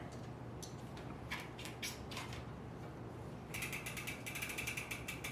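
A bolt on a SRAM bicycle crank preloader is loosened with a ratcheting tool, giving faint, close, quick ratchet clicks in short bursts, then a longer rapid run of clicking.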